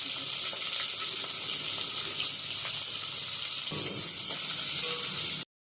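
Onion, green chilies and curry leaves sizzle in hot oil with mustard seeds for sambar, a steady bright frying hiss with occasional stirring scrapes and a brief pause at the end.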